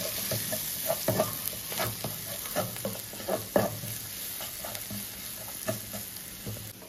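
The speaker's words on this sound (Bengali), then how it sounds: "এবার পেঁয়াজের সাথে ভালো করে মশলাগুলোকে ভেজে নেব।" Ground turmeric, cumin, and chilli powders fry with onions in a pan for a brinjal curry, making a steady close sizzle with repeated scraping stirs and soft taps of the spoon.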